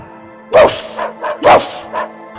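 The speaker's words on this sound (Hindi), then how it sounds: "अचानक एक बड़ा सा कुत्ता वहाँ आ गया।" Two loud, close barks from a large cartoon dog about a second apart, each followed by softer yips, over a quiet background hum.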